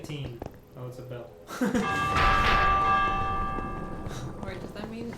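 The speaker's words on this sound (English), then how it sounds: "Oh, it's a bell." A bell in Minecraft Dungeons rings out with a strong, sustained metallic tone that swells and slowly decays, preceded by short game sounds, with a voice talking over parts of it.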